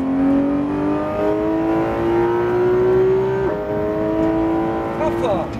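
A car engine revs hard at full throttle, its pitch climbing steadily, then briefly dropping and rising again, with a voice talking over it in French.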